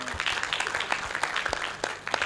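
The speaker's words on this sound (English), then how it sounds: "Please give a round of applause for our moderator today." A conference audience applauds a moderator at an international sciences, technology and education event, a steady wash of many hands clapping throughout with no voice over it.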